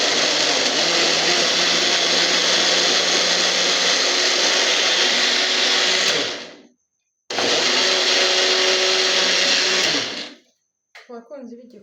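An electric kitchen blender grinds ingredients in two loud, steady bursts, running about six seconds, cutting out briefly, then whirring another three seconds before stopping, followed by faint brief sounds.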